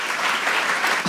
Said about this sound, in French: Par applaudissement.